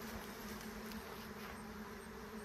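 Honey bees buzz around the hive in a steady, even drone that stays constant throughout, with no talking.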